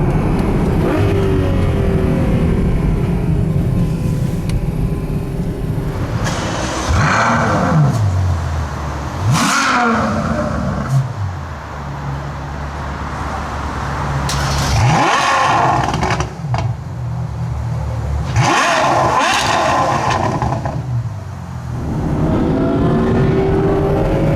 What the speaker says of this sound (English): Has an IPE exhaust system and it sounds absolutely mental.